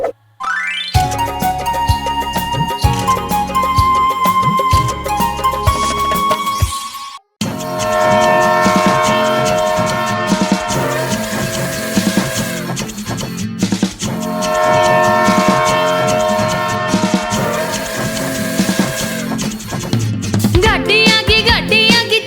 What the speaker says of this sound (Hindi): गाड़ी आगी छुक छुक छुक। सीटी देखो क्यों कर बाजे कुक कुक कुक।